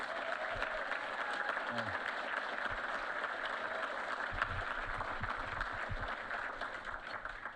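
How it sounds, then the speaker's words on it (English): Audience applause at a Jet Award ceremony in 2022, a steady dense wash of clapping from a room full of people, evenly loud throughout with some low thumps and murmured voices underneath. "let's start by giving Johnny a round of applause for 50 years since he's gotten a Heisman"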